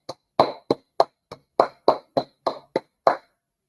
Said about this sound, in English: I just have to clap the fact that one of our players actually put effort in to make a tackle